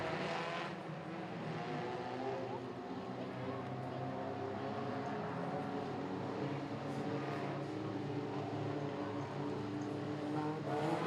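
Street stock race cars restarting three to four wide at Bunbury Speedway, a dense, steady roar of many engines heard from a distance, with a commentator talking over the track noise throughout.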